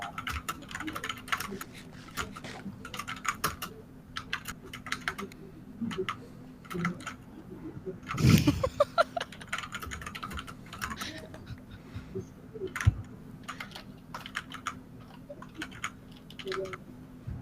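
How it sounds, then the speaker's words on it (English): Steady computer keyboard typing fills the stretch, quick irregular clicks and taps continuing throughout at close range with a low hum beneath and a single louder bump midway. "While she's typing that out"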